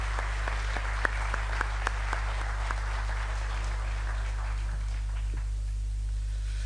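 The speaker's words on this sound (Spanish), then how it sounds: "Y nuestro aplauso es para ellos." An audience at an Asturian tonada singing contest semifinal in Valle del Narcea applauds the jury. Steady clapping from a crowd carries through a hall over a low constant hum, thinning out toward the end.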